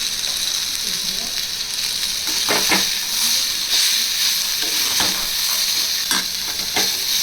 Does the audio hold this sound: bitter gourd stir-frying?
yes